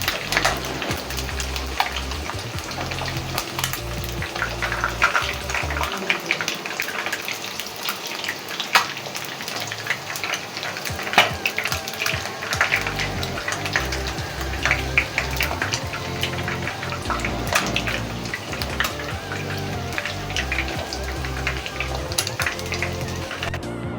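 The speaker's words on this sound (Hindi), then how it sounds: "अब अंडे हमारे ब्राउन फ्राई कर चुके हैं" Eggs for nargisi aloo kofta fry in hot oil until brown, a loud, steady sizzle and crackle running continuously up close with no talking.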